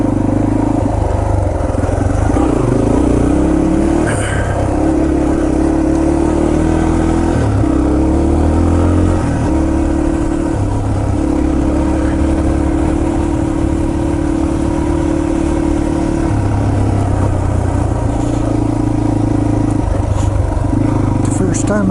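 A Yamaha TT-R230 dirt bike drones loudly along a trail at Windrock Park, its single-cylinder engine holding a steady note that dips and rises with throttle changes, with a voice faintly underneath.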